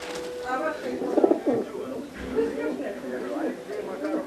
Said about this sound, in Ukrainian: тут живуть десятки голубів